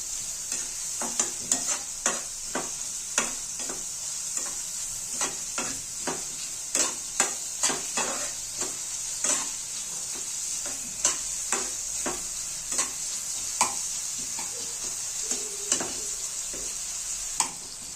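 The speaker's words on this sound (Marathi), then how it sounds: "कांदा तोपर्यंत लाल होत नाही तोपर्यंत चांगला तळून घ्यायचं" Onion frying in oil while being stirred, a steady sizzle broken by repeated sharp scrapes and taps of a spatula against the pan at an irregular pace, close and without talk.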